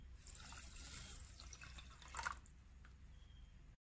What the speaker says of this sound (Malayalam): ഇനി 1 കപ്പ് വെള്ളം.